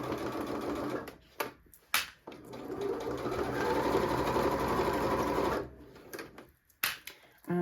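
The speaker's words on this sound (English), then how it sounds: "I'm going to be sewing at the 1 centimetre marker on my guide on my machine" A sewing machine stitches down the side of a zippy pouch in a steady close whir, broken by short stops and clicks as the fabric is adjusted.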